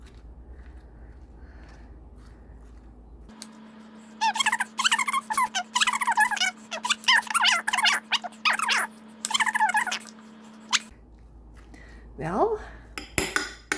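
Ingredients for pico de gallo are stirred in a bowl with a utensil, producing rapid repeated clinks and scraping against the dish for several seconds, followed by a brief squeaky sound.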